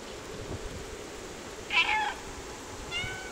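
Cat meowing in the video game Stray: a single short meow rises out of a soft ambient game background midway through, with a fainter second call near the end.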